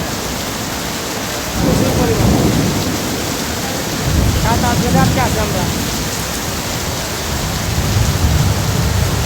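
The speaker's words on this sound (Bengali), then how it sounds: "কত বৃষ্টি" Loud, steady rain falls during a storm in Malaysia while deep thunder rumbles rise and fade in several waves. A voice sounds briefly under the downpour.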